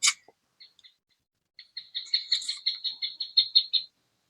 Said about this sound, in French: il y a un oiseau qui vient de piailler